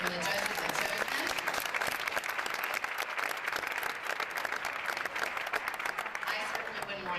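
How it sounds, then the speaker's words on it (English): A big round of applause for competition finalists and judges at a dinner event, dense crowd clapping that holds steady throughout at moderate loudness. "One more big round of applause for the finalists and for the judges that chose them"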